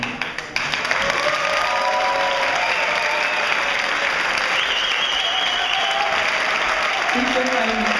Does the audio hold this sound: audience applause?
yes